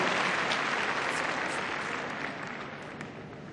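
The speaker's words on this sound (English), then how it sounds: "Let's give him a big round of applause" Spectators at an international freestyle heelwork to music dog competition applaud a competitor, a dense, steady clapping of a large crowd that slowly tapers over a few seconds, heard without talk.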